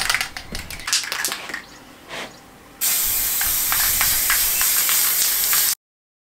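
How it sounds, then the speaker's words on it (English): Genolite primer filler sprayed from an aerosol can during a camper build, first a few rattles and clicks, then a loud steady hiss of about three seconds that stops abruptly. "Genolite, the original primer filler. Two to three coats, 15 minute wait in between."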